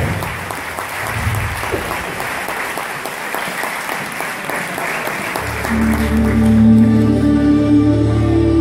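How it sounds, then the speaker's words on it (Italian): Audience applause at an evening event, a dense burst of clapping from a crowd that keeps going steadily, then thickens near the end under a rising musical tone. "allora un applauso alle donne che ci lasciano e ci lasciano con gli uomini"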